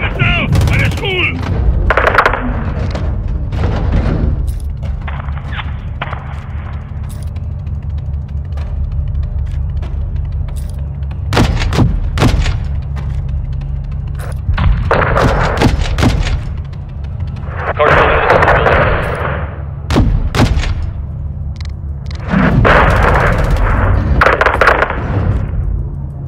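Gunfire and explosions in Call of Duty Modern Warfare 2 on a Mexico mission, with scattered sharp shots and booming blasts over a low rumbling battle bed, mixed with radio voices talking.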